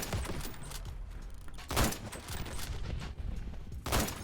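Gunshots in a Roblox game fire in spaced bursts, a loud crack near 1.8 s and another near 4 s over a steady rumble of game noise.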